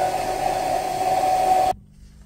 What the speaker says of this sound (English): after using extra heat from our hair dryer, this managed to open up and create a gap